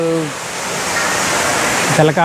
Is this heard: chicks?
no